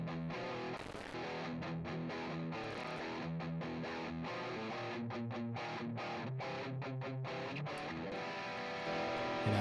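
Heavy 80s-style distorted electric guitar runs through a Bogner amp model on a Headrush pedalboard, loud sustained chords with rhythmic chugging stops, playing alone without talk.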